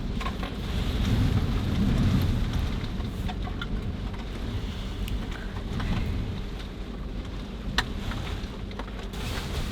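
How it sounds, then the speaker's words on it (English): Wind and rain buffet the outside of a camper van in a steady, dense roar with low rumbling gusts swelling and easing, and scattered sharp drops tapping close by throughout, with no voices. "You probably can already hear the wind and the rain"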